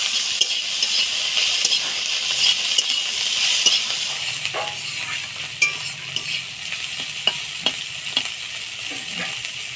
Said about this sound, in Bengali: চিংড়ি মাছটা হালকা ভাজা ভাজা হয়ে আছে, এবারে রসুন, পেঁয়াজ, কাঁচা লঙ্কা দিয়ে দিব।